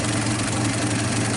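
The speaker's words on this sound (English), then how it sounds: "It's probably running, I don't know, 400 RPM like that. Still got a little bit of sputter" A 1951 Studebaker engine with unlapped valves idles slowly at around 400 RPM, producing a steady low rumble with a slight uneven sputter, close and continuous.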